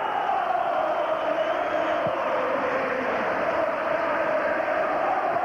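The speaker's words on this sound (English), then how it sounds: "Crowd volume levels around Ibrox rise again." A big football crowd roars steadily at Ibrox during a Rangers versus Celtic league match, a dense sustained swell of chanting and shouting with no break.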